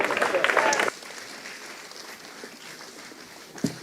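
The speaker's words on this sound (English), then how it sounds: "let's keep clapping" Audience applause at a business summit after a speech, a loud burst of clapping for the first second that then drops to a low murmur of room noise, with a brief thump near the end.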